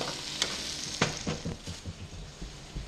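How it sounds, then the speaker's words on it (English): Quail browns in a pan with a Southern-style preparation. It gives a continuous close sizzle, with sharp spitting pops and stirring clatter breaking through at irregular moments. "We're going to keep on browning this quail"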